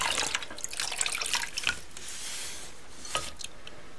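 Water poured from a cup over polymer clay pieces, rinsing away residue; a steady close trickle and splash with scattered drips, no talking.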